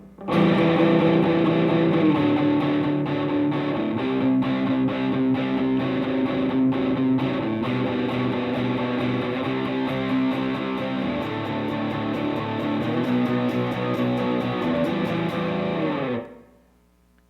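A distorted electric guitar plays a sustained power chord riff for about sixteen seconds, shifting between power chord shapes, then rings out and stops.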